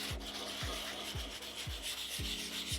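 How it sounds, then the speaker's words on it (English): Steady rhythmic rasping of sandpaper rubbed back and forth over a surfboard around a ding, about five strokes, close and continuous with no talking. "Make sure when you're sanding you get up around the ding"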